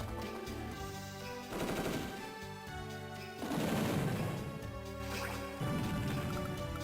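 Attack gunfire on a tank in the Advance Wars Dual Strike video game, rapid machine-gun bursts and crashing impacts over game music, loud and continuous, without talk.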